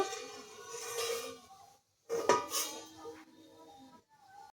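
A metal pot lid lifted off a heated pot while a cake bakes, giving a clear clatter and scrape of cookware, then softer clinks of dishes and metal, close by with no talking.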